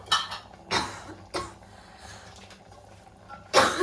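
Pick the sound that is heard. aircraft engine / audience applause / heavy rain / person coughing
person coughing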